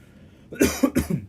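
Two or three quick, close coughs in a tight cluster, loud against a quiet room.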